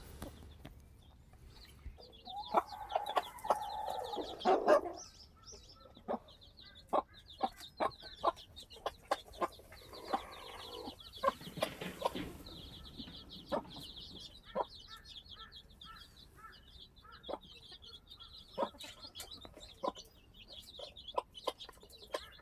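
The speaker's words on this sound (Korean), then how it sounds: "지금 이제 그 사료를 주니까 어미가 이제 사료 있는 데 와서 이제 병아리들을 부르니까" A mother hen, a native Korean breed, clucks repeatedly to call her chicks to feed in an outdoor pen, a steady run of short sharp clucks with some softer chirping, fairly near and with no talking.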